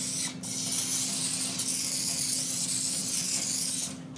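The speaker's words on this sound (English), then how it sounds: "Got my nonstick spray." Nonstick cooking spray hissing from a can in a steady, close, loud continuous burst lasting a few seconds, with brief breaks at the start and end.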